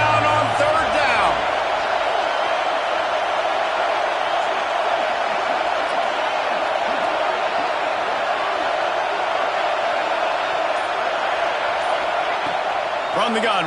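Football stadium crowd roaring on third down with the Gators on defense, a dense, sustained wall of cheering and noise that holds loud and steady throughout.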